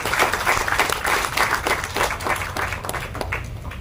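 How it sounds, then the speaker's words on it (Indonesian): An audience at a political rally applauds volunteers, loud continuous clapping from a crowd with some nearer individual claps, lasting the whole stretch without speech. "Tepuk tangan untuk relawan."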